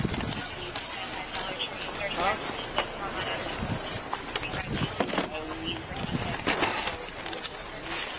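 Car keys jangle as they are handed over at a car, with scattered metallic clinks running through the clip amid muffled voices and steady outdoor background noise.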